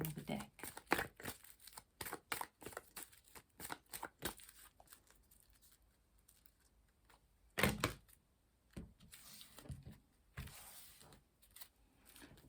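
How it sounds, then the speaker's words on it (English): A tarot card deck is cut and handled with a run of quick crisp shuffling and snapping card sounds, close and sometimes clustered, spread across the clip with quieter gaps in between. "And I will be cutting the deck"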